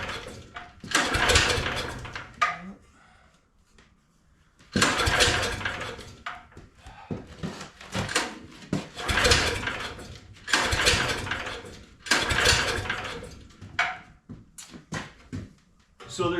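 A John Deere ATM 600 with a swapped engine being started outdoors, several loud bursts of cranking and engine noise in separate runs with short pauses between, mostly alone with no talk.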